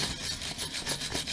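Wire brush scrubbing across a fresh weld, a short burst of quick, raspy back-and-forth strokes, close and fairly faint.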